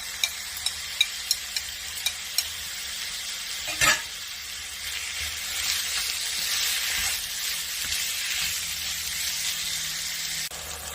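Beef with lemongrass, chili and red onion stir-fries in a pan with a steady close sizzle, preceded by a few light clicks and a brief clatter as ingredients go in.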